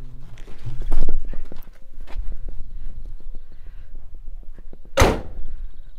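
Doors on a vintage Skoda Liaz fire truck are handled, with scattered knocks and thumps leading up to one loud, sharp slam near the end, heard up close.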